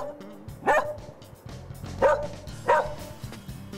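A dog answering arithmetic questions with three distinct sharp barks, close and loud, evenly spaced over a few seconds against light background noise.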